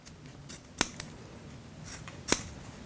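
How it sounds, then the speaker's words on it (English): Scissors snip through masking tape on a silver sheet at a jeweller's bench, two sharp close cuts with a faint click between, over quiet room tone. "Trim the masking tape off."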